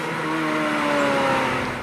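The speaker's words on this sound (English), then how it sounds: "that's the Ferrari 430 Scuderia. What an amazing drive that was" A Ferrari 430 Scuderia sports car drives hard, its engine note rising steadily and loud, heard close as it accelerates through a gear.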